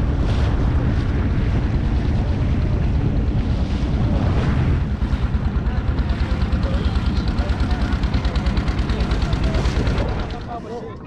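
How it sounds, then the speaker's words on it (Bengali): A boat crosses the wide, flooded mouth of the Brahmaputra river with strong wind buffeting the microphone. The churning, rushing roar runs loud and constant, with a faster pulsing rhythm in the second half before it fades near the end. "এখান থেকে মিনিমাম নৌকায় দেড় ঘন্টা আমাদের যেতে হবে"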